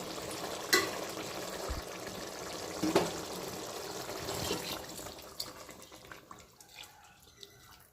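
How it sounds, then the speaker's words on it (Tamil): Water poured into a pot of beef biryani, a splashing, sizzling gush that fades into quieter bubbling and a few clinks. "இது தண்ணி சேர்த்துக்கலாம்."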